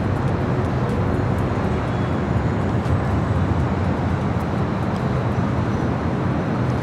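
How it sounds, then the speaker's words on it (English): An Austrian Airlines Boeing 777 arrives at Los Angeles airport, its steady broadband jet roar filling the scene continuously at a constant, fairly loud level with no talk. "Austrian, the 777, just arriving on the south side"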